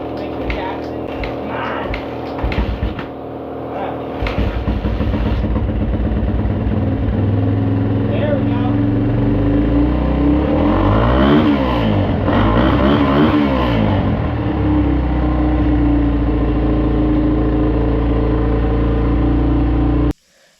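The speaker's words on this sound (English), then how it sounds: "turn our choke on, hit our decompression lever, and try to start it." Off-road motorcycle with choke on and decompression lever used, cranking a few times before the engine catches, then running loud and steady with revving swells for nearly twenty seconds before cutting off abruptly.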